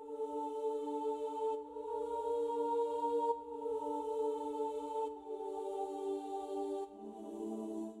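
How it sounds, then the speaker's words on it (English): Female choir preset from the Expand synth playing sustained airy chords, five held swells with breathy hiss that shift pitch near the end, no talking. "Last thing I've added is this female choir preset from Expand."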